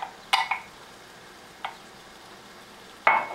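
A sauce with herbs and green peas sizzling in a pan, stirred with a few short scraping strokes that stand over a faint steady fry.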